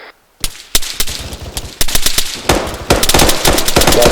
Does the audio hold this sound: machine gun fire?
yes